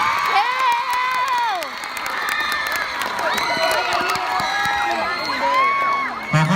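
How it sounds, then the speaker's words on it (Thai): A school crowd applauds and cheers after a Korean taekwondo performance in Laos, with children shouting and whooping in high, gliding calls over continuous clapping. "ขอเสียงปรบมือเลยกันนะ"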